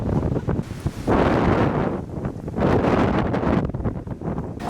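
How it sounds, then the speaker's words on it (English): Strong outdoor wind roaring in two big gusts that swell and ease, loud and close with no talking. "It's getting really windy."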